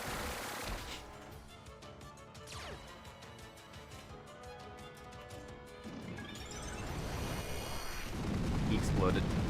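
Explosion sound effect in the Pokémon Ultra Sun/Ultra Moon video game, a burst of rapid crackling blasts building into a loud rumbling boom, with game music and a voice talking over it.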